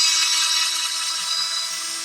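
A small power driver whines steadily as it backs bolts out of an RC car chassis, a high, continuous buzzing tone held close for about two seconds.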